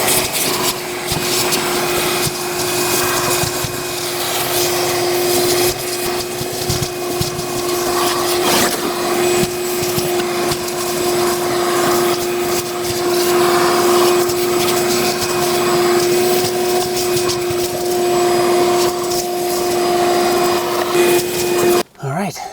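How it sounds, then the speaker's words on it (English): A vacuum cleaner runs steadily and loudly while sucking debris out of the cabin air filter housing of a Dodge Grand Caravan, a constant whine with rustling as the nozzle moves, cutting off at the end. "let's get the vacuum and clean all that up"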